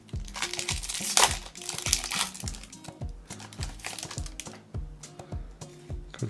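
Crinkly plastic foil of a Pokemon Shining Fates booster pack being torn and handled up close, a continuous irregular crackle and rustle with no talking.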